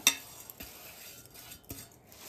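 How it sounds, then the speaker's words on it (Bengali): Raw green mango pieces being mixed with a large amount of sugar in a bowl: quiet, soft stirring and scraping with a few faint clinks of the utensil against the container. "ভালো করে এবার এইভাবে মিশিয়ে নেব।"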